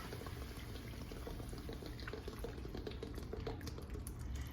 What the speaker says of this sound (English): And then we're going to add our milk